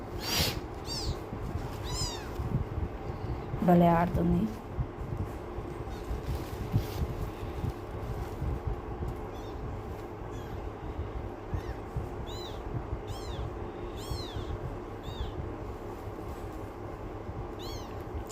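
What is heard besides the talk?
kitten meowing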